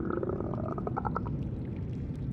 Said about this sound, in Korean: 배 꼬르륵 끓이는 소리도 들리네